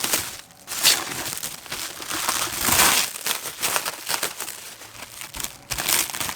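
Crinkling plastic wrap being pulled off an acrylic algae scrubber during unpacking, a busy run of close, bright crackles and rustles that swell and ease over several seconds, with no talking.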